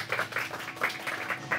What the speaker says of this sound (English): Put a big round of applause for Ghazal.